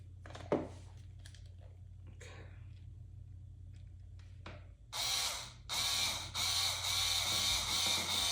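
A Swiss Tech 10-inch mini hacksaw having its screw and nut tightened by hand, a few faint clicks and taps followed by a louder run of ratcheting, gritty mechanical turning bursts near the end, with no talk.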